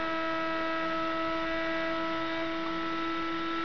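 A Muller motor with a power LED connected as its load gives off a faint, steady electrical hum with stable tones, close by and alone with no voices.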